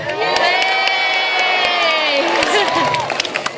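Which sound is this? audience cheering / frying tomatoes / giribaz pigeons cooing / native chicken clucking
audience cheering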